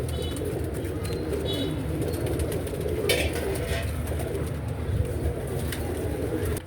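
A pair of teddy pigeons, male and female, coo softly and steadily at close range, with a low continuous murmur and occasional faint chirps in the background.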